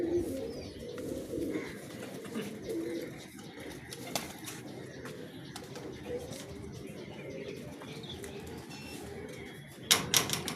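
Pigeons coo steadily in low, throaty repeated calls close by in an Indian pigeon-flying setting, with faint background noise and a brief clatter near the end.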